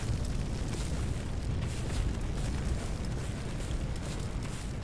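Explosions in the Firefighting Simulator video game, with a burning hut: a continuous loud, dense roar of blasts and rumbling fire, steady throughout and heavy in the low end.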